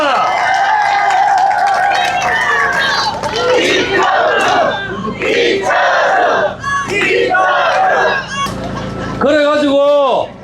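A large crowd at an election campaign launch rally in Gumi lets out loud, sustained cheering, chanting and shouting, rising in waves with a final burst of voices.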